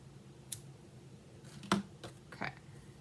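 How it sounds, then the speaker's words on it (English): Ribbon scissors cutting ribbon, a few faint sharp snips and clicks spread over a quiet background, close and brief. "Grab my ribbon scissors."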